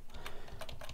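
Quick keystrokes on a computer keyboard as a URL is typed into a web browser, a short run of close, light clicks with no talking.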